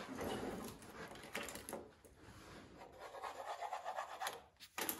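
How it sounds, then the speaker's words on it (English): A belt sander fitted with a 180 grit belt works across wood veneer and solid wood, giving a steady rasping, rubbing drone that swells and dips with each pass, fairly quiet and alone. "So I just started with a 180 grit belt, right? Just sanding till most of the pencil lines are gone."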